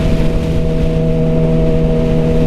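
A Honda CBR600RR sport motorcycle engine holds a loud, steady, close-up drone while riding in a higher gear, with strong sustained engine tones and wind.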